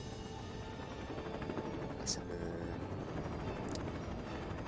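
In the Lego Batman video game, a police helicopter gives off a quiet, steady rotor drone throughout, with two brief sharp high-pitched bursts partway through.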